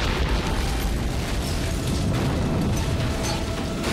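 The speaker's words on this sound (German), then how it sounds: "Solche Explosionen hatten wir allerdings noch nicht." A loud, sustained explosive roar rumbles continuously during TV series filming, dense and booming with no talk over it.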